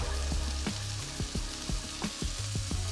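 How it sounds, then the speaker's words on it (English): A thin low-carb roux sizzles steadily on a Blackstone flat-top griddle, with a constant frying hiss broken by a few soft stirring scrapes. "We're going to cook that for a little bit. We'll cook this roux down."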